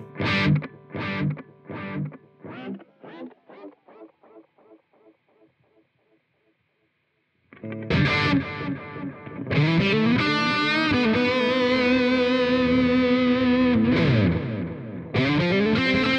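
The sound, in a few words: electric guitar through Soldano SLO-100 amp simulation with tape echo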